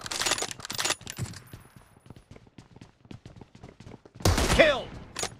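Sniper rifle shots ring out in a video game, with loud blasts at the start and end and a rattling string of sharp clicks and shell-like clinks in between, alongside some talking.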